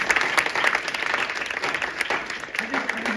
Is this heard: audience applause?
yes